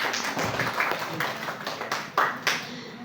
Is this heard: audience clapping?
yes